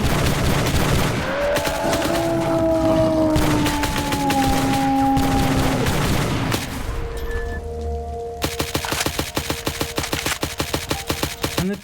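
Video game gunfire from an MPX weapon, with bursts of rapid shots, tonal in-game effects and a closing stretch of evenly spaced loud shots, all close and continuous.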